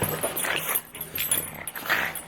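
Several excited dogs growl, whimper and yip close by outdoors in a rough, continuous tumble of noisy sounds with no clear pauses.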